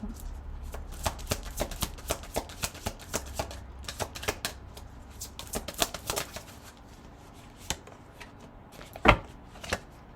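Tarot cards are shuffled in quick, crisp riffles and flicks that repeat steadily, then slow into a few isolated slaps and snaps as cards are drawn and laid down, with a sharper snap near the end and no talk.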